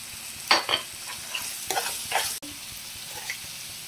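Mushroom masala stir-fried with garam masala, salt and sugar, marked by a few sharp spatula scrapes and short sizzling bursts over a quiet background, close up with no talk.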